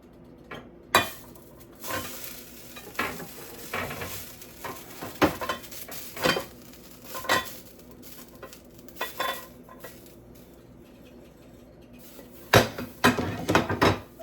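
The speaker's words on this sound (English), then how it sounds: "I'm about to slide it off on this plate and flip it" Fried breakfast food scraped and slid off a pan onto a plate, with a run of sharp metallic scrapes and clatters over a faint sizzle, louder knocks near the end.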